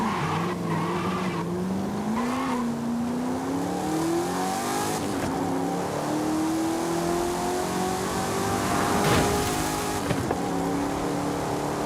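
Nissan retro race car engine in Forza Horizon 5 holds a steady, rising drone as it pulls through the gears, loud and continuous with brief tire noise, no talk.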